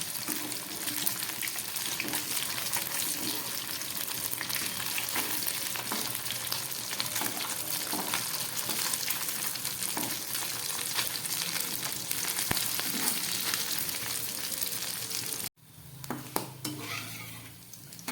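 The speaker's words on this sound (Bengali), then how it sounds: "ঘুরিয়ে ফিরিয়ে খুব ভালো করে আমি এই মাছের মুইঠাগুলোকে ভেজে নিলাম" Fish balls (machher muitha) frying in a pan, a steady dense sizzle with occasional stirring clicks for about fifteen seconds, then a sudden drop to quieter sizzling near the end; no talking.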